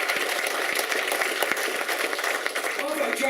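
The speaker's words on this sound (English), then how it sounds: "Round of applause, please" Applause from an audience at a mixed martial arts press conference for UCMMA 23, a dense steady wash of clapping throughout with a few voices mixed in.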